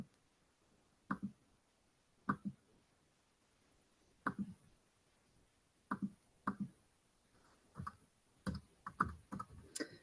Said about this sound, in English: So I am going to just go ahead and type that in as well.